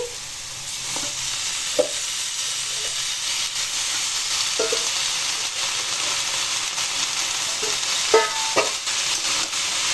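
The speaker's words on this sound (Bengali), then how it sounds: "এবার এই লাউ পাতাগুলো কেটে রেখেছি সেগুলো আমি দিয়ে দিচ্ছি" Chopped bottle gourd leaves stir-fried in a pan, a constant steady sizzling hiss with occasional soft scrapes and clinks from a utensil.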